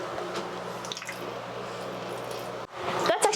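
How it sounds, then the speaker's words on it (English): Midea Cube dehumidifier pumping water out through its hose: a steady, faint wet squishing and dripping with a low hum beneath, and a louder gurgle near the end. "I hear a different sound. Water coming out. So it's pumping out water."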